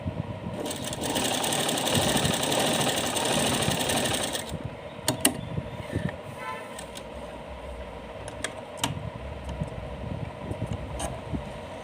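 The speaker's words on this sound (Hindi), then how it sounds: "फिर से इस तरह से सिलाई लगाएंगे" Sewing machine stitching fabric for a Laddu Gopal outfit: a close, loud, steady mechanical whir for about four seconds, then stops, followed by scattered light handling clicks and rustles.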